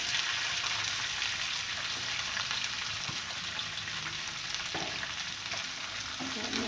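Guar beans fry in a pan with browned garlic and cumin over a lowered gas flame, giving a steady, dense sizzle throughout with occasional soft stirring clicks.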